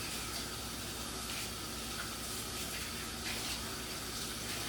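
A kitchen utensil rinsed under a running tap before making caramel, a steady close rush of water with light splashing changes, no talking.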